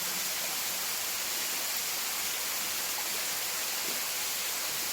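Rushing water pours through a slate mine, a dense, constant roar of flowing water that fills the space with no breaks and no voices.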